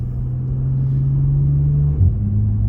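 A 2020 Bentley GT Convertible on the road gives a smooth, steady low engine drone from inside the car, with a short shift in pitch near the end.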